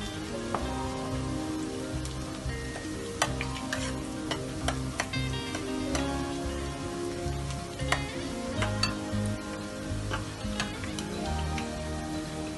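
Onion, cumin and red chili sizzle steadily in hot oil for a Punjabi curry tadka, a loud, continuous frying hiss with occasional sharp pops and spatters throughout and no voices.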